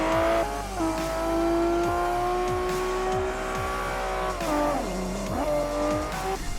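A Lamborghini Murciélago LP 670-4 SV races in Forza Motorsport 4 with a loud, high engine whine that rises and falls through gear changes. Brief tire squeals sound as the car hits a corner with oversteer.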